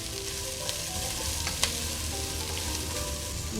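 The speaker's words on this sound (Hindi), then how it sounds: "इसको तकरीबन 2 मिनट तक हम पकाते हैं" Cabbage sizzles steadily in a hot pan for Singaporean rice, a continuous frying hiss with a couple of faint clinks of stirring, close and alone without talk.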